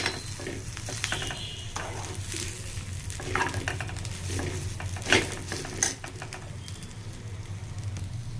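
Drumstick leaves sautéing in a pan for chutney give a steady, close sizzle with scraping stir strokes and a few sharper clinks of utensil on pan.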